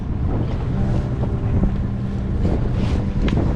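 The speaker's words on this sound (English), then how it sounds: "Super windy today." Strong wind buffets the microphone in a continuous roar aboard a sailboat, with water sloshing against the hull close by.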